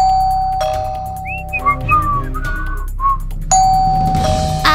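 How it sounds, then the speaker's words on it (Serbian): A doorbell chimes inside the video game Minecraft, a bright two-tone ring that sounds twice over a steady low hum and background game music, with no talk. "zvono, hajde da proverimo!"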